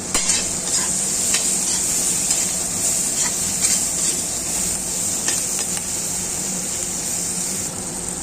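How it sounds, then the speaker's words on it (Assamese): Chopped capsicum fries and sizzles steadily in a hot pan, added after onions, while a spatula stirs through it in repeated scraping strokes, a close, continuous crackle with no talking. "এতিয়া আমি ইয়াত কেপচিকামখিনি দি দিছোঁ। মই লৰাই দিম ৰ'ব দেই।"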